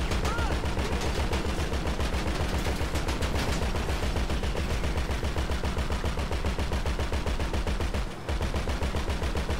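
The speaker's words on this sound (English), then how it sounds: "I'm gonna shoot this person now" Rapid automatic gunfire in GTA Online, a fast, even stream of loud shots lasting several seconds with a brief pause near the end before firing resumes.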